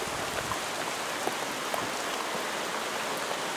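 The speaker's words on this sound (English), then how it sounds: "the rain's just starting to come down" Steady, dense rain falls at the start of a thunderstorm in Leicestershire, UK, hissing evenly across the whole stretch with scattered nearer drop ticks and no voices.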